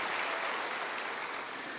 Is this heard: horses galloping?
no